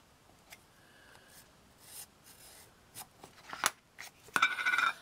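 Quiet scraping and rubbing of paper, then a few sharp snips of scissors cutting, growing louder and busier toward the end.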